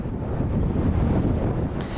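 Strong wind buffets the microphone in a continuous roaring rush, loud and close, with no voices.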